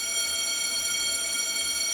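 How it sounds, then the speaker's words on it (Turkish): School bell ringing inside a video game, a steady, continuous high ring that holds without a break and stands alone with no talk over it. "Okul zili çaldı"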